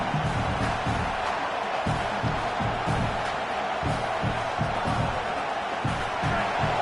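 A stadium crowd in a college football video game cheers and roars steadily on a fourth-down defensive stand, a dense wash of noise with rhythmic low thumps beneath it, while a commentator talks over it.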